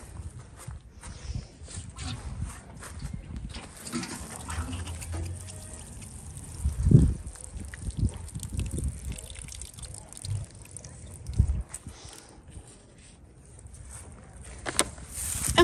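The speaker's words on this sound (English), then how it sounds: "Let's get those watered." Water pours from a hose or can onto freshly sown seeds in moist garden soil, a steady soft splashing and trickling with a few louder gushes over outdoor background noise.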